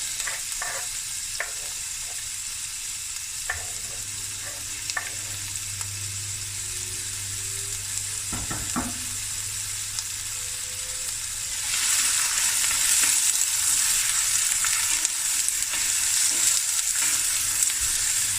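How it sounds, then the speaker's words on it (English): Peppers and onions fry in a pot for a butter bean and lamb curry, a continuous close sizzle with occasional stirring knocks, swelling louder and hissier partway through as the vegetables hit the heat. No talk. "Okay, now I'm gonna add peppers, onions."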